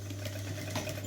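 A sewing machine stitches a fabric handbag with a steady motor hum and a rapid needle chatter, close and alone, in one short continuous run.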